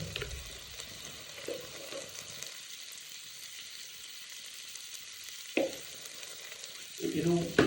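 Spices with red chilli and black pepper roast on low flame for Maggi, giving a soft, steady frying hiss with occasional louder stirring scrapes and clatters toward the end.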